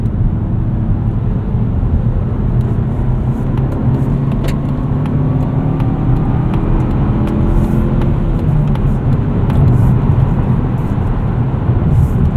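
A 2024 Mazda3 2.5 S with manual gearbox cruises on the highway at 70 mph around 2,500 RPM, a steady engine drone mixed with road and wind noise heard from inside the cabin, with no talking.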